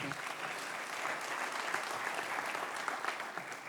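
An audience at an industry round table applauds in a steady, dense burst of clapping that carries on evenly for a few seconds.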